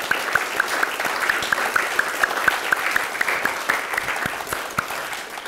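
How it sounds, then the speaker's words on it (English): Audience applauding winning authors at a New York City book awards ceremony, a full indoor room of steady, dense clapping lasting throughout. "One more round of applause for all of our winning authors"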